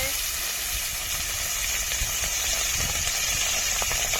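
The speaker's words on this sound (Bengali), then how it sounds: "তেল গরম হয়ে গেছে মাছগুলো দিয়ে দেব" Bhola fish frying in hot oil in a pan at home, a steady broadband sizzle and hiss running throughout, fairly loud and close, with some speech-like activity under it.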